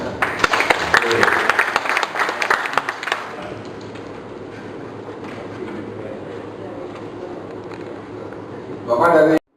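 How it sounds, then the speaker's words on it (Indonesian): Audience clapping at an official ceremony opened by a deputy mayor of South Jakarta, a dense burst of applause for about three seconds that fades into room murmur, with a brief louder flurry at the very end. "Ya, tepuk tangan."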